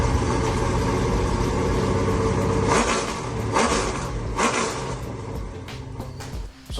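A 1968 Oldsmobile 442 V8 with a Howard's cam runs loud and lumpy, blipping the throttle in several sharp revs over a choppy, uneven idle.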